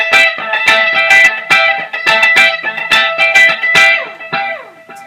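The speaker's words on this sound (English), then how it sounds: "I put a quarter note delay on it, and it sounds like this" Lead electric guitar for a song, played through a quarter-note delay, with bright picked notes and echoing repeats, some slides at the end, loud and alone.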